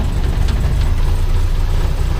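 A cold car engine idles just after being started, producing a steady, close, low rumble with a slightly rough, uneven texture and no speech.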